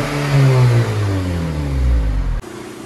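2014 Honda Civic Si on the stock exhaust revving up, a loud mid-pitched engine note climbing steadily and then cutting off abruptly before settling back toward idle, close and alone without talk.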